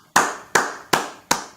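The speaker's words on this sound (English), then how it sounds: "give him a round of applause for that" Four sharp, evenly spaced hand claps ring out close and clear, each with a short decay and no voices.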